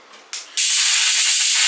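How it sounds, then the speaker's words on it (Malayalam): Pressure cooker whistle on a stovetop while cooking biriyani: a sudden sharp hiss of escaping steam bursts out, then settles into a loud, steady, high whooshing release that lasts until the end. "അപ്പോൾ ഒരു വിസിൽ വന്ന് ഓഫ് ചെയ്തു"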